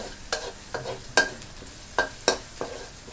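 Garlic and chili being stir-fried over medium heat in a pan, with repeated sharp scraping strokes of a spatula every half second or so over a soft, steady sizzle, close by.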